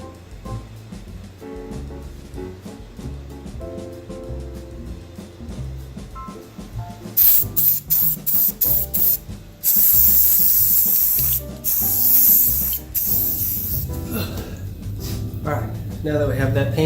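Spray paint from an aerosol can is applied to a Corsair C70 PC case in bursts: short hissing sprays, then two long loud hisses, with gaps between passes and mechanical clicking plus background music underneath.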